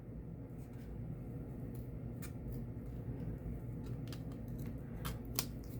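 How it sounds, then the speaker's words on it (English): Small multi-tool scissors snipping a single piece of priority mailbox cardboard, with several quick, faint crisp cuts over a low background rumble. "Let's see if I can snip the cardboard."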